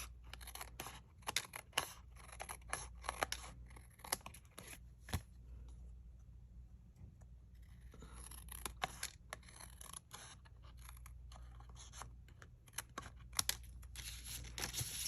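Scissors trimming excess paper from all four sides of a craft piece: bursts of close, crisp snipping and rustling paper, separated by a few quiet pauses.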